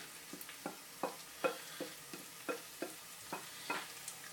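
Chicken curry mixture being stirred into a paste in a pan, a quiet sizzle with a steady series of about a dozen evenly spaced scraping strokes, close up and with no voices.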